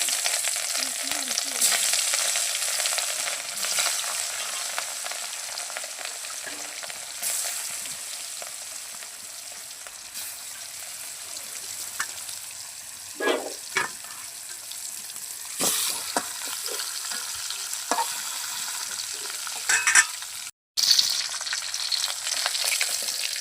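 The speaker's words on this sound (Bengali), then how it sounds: "মাছ মাখানো হয়ে গেছে, এখন কাঁকরোল ভাজি তেলে মাছগুলো ভেজে নিচ্ছি" Marinated rohu fish pieces frying in oil on a clay stove, a continuous bright sizzle with scattered clinks and scraping of stirring, no voices.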